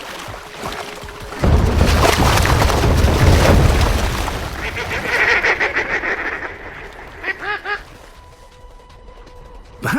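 Goldeneye ducks calling on a river with steam rising into the cold air, a mix of honking and quacking calls over a rushing background, some short repeated calls near the end.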